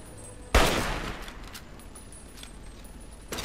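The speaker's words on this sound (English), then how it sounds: "Oh, he's shooting me with plasma" Plasma weapon fire in Fallout 3, a sharp loud energy blast that rings out and decays over about a second, followed by a second shot starting near the end, with no talking.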